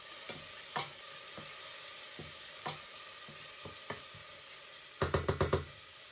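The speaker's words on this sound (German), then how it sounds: "Jetzt geben wir erstmal etwas Olivenöl in einen Topf, erhitzen es und braten dann erstmal die Zwiebel und den Knoblauch an." Onion and garlic fry in olive oil in a pot for a Moroccan lentil stew, with a soft steady sizzle under scattered spoon taps and a quick run of five knocks near the end.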